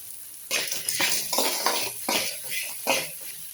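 Onions with salt are sautéed in a pan for a tomato chutney, with repeated metallic scrapes and clinks of a spoon against the pan over a soft sizzle, close and fairly quiet, with no voices.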